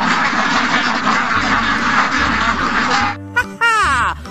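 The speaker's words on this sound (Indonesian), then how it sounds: "Ini bebek." A toy duck sounds for about a second after a long stretch of loud broadband noise, giving short nasal quacks up close, with no speech.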